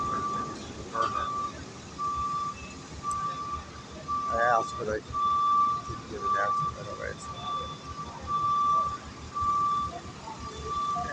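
Reversing truck at a steam plant giving off a regular, clearly audible beep-beep warning tone over rumbling engine noise, with a person talking nearby.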